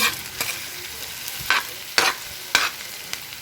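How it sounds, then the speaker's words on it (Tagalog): Corned beef is sautéed with onion in a hot pan under a steady sizzle, while about five sharp scraping strokes of a spoon stir it at a rhythmic pace. "Una, gigisahin ko muna yung corned beef"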